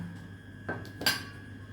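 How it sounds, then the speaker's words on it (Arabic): A spoon clinks twice against a bowl while two eggs are gently stirred with a little vinegar, short close taps over quiet kitchen background. "ونقلبهم كده بالراحة"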